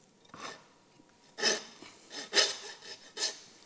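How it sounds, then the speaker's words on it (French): A special meat saw cuts into a pork carcass during primary butchery, giving a few rasping strokes in irregular bursts, close and moderately loud, with quiet gaps between them and no talking. "On va en profiter pour donner juste légèrement un tout petit coup de scie."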